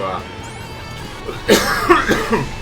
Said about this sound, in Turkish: Dostlar çok özür diliyorum öksürükler için.